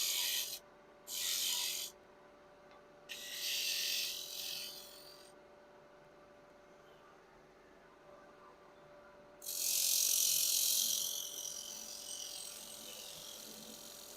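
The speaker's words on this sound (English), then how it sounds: "Using the rocking gouge just to get some of that bulk away." Rocking gouge carving wood to remove bulk from the base of a puzzle ball stand, heard as several loud rasping scrapes in separate bursts with quiet pauses between, close up and with no talk.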